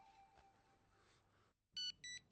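A phone ringtone trills twice in short electronic bursts after a moment of near silence, with faint background murmur before it.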